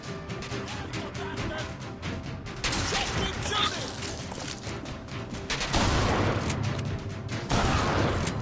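Shotgun blasts in the first-person shooter Bioshock Infinite, a dense run of loud, sharp reports and crashing impacts stacked over continuous combat din, with heavier bursts near the middle and end.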